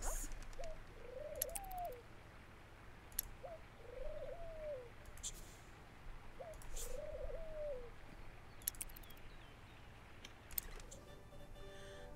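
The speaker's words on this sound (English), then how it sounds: "As the carrier pigeon flew off into the sky, carrying the official note of thanks" Carrier pigeon cooing from The Sims Medieval: three soft, rising-and-falling coos spaced a few seconds apart, moderately near, over a quiet ambient bed with faint scattered chirps and clicks.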